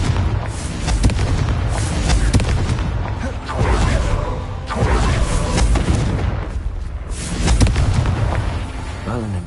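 Repeated booming blasts from the Confringo fire spell in Hogwarts Legacy roll over one another in a loud, continuous rumble of explosions, with game effects layered throughout.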